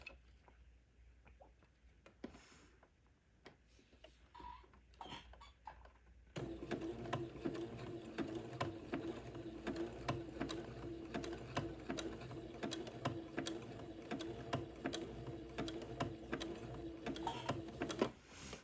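Sewing machine running steadily as it stitches narrow edging lace onto a gathered Christmas bishop dress, a dense, even mechanical patter that starts after a few quiet seconds and continues close and moderately loud.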